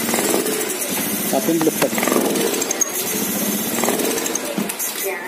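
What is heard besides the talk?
motorcycle engine revving with throttle position sensor socket unplugged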